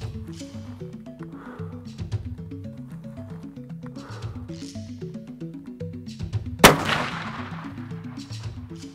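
A single loud, sharp crack from a .416 Ruger rifle being sighted in before a dangerous-game hunt in Mozambique, standing out over background music.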